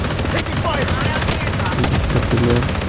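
Rapid sniper rifle fire in the shooter game Blood Strikers, a dense run of loud crackling shots and bursts filling the whole stretch, layered with busy game effects.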